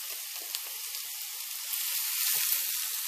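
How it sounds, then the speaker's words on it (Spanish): Chopped onion sizzles and fries in hot oil in a pan, a steady close crackling hiss that grows slightly louder partway through, with a few soft clicks and no talking. "el aceite ya lo tenemos caliente, ¿de acuerdo? Entonces lo primero que vamos a echar va a ser la cebolla."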